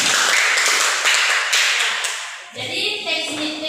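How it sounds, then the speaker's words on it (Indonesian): A class in an Indonesian-language lesson simulation breaks into a loud wash of clapping for a couple of seconds, then it fades as a voice starts talking. "tepuk tangan untuk kita semua"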